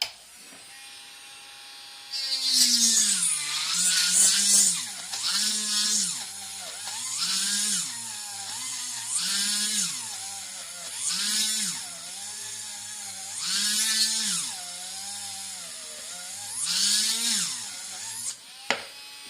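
An electric drill with a bit spins up after a quiet start and then runs loud and close in repeated pulsing bursts, its pitch dipping and rising as it bites, with no speech.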